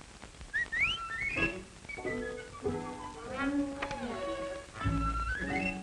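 A person whistles a string of varied, sliding tones and short trills to call a mule, fairly close and steady over several seconds with no talking.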